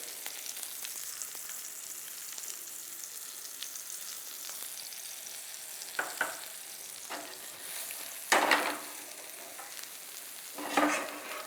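Butter and oil sizzle softly in a pan on the stove, a steady quiet hiss with a few brief louder crackles and stirring bursts toward the end.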